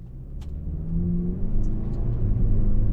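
A 2023 Lincoln Corsair Standard II AWD pulls away, its engine note rising into a smooth, steady rumble heard from inside the car, with no talking.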